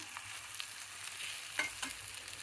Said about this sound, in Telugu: ఉడకపెట్టి హాఫ్ బాయిల్లో వేసుకొని నెమ్మదిగా కలిపెట్టాలండి